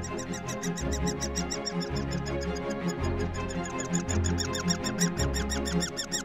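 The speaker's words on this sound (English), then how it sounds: "It was woodpeckers. One of them was squeaking." Baby woodpecker chicks squeak inside a tree hole, fast repeated high chirps in a steady pulsing rhythm, close and continuous over a low background rumble.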